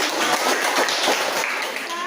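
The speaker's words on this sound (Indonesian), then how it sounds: "beri tepuk tangan untuk kita" A classroom of students claps together in a dense, continuous burst, with voices mixed in under the clapping.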